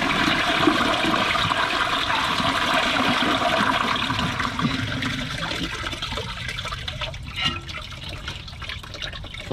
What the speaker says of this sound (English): Let's see if it flushes.